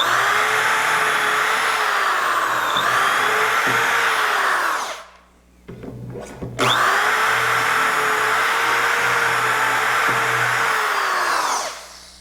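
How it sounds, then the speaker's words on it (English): A power drill bores dowel holes through a Dowelmax jig for a mirror frame, a loud, steady whine that drops out briefly midway with small clicks, then resumes just as strongly until it winds down. "Now again we're going to drill 4 and 5."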